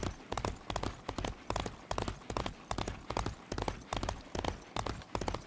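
Horse hooves in Disney Infinity 3.0, a rhythmic clip-clop of a ridden horse moving at a brisk gait, clear repeated hoof strikes in even groups, alone without talk.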